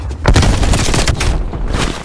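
A thrown grenade bursts in Call of Duty Black Ops Cold War, a loud close boom within a dense, sustained din of heavy gunfire and rumbling.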